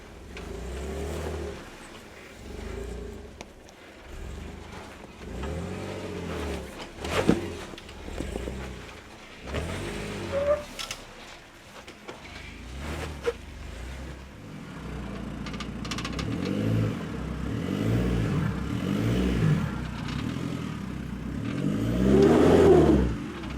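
A Jeep Wrangler JK on large off-road tyres rock crawling up a rocky line, its engine revving in uneven surges that build to a louder push near the end, with brief voices and movement noise around it.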